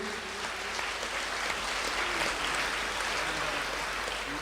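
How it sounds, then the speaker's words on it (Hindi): A worship congregation claps together in praise, a steady, fairly dense applause filling the room at moderate loudness without letting up. "प्रभु के लिए हम ताली बजाएंगे इस वरदान के लिए।"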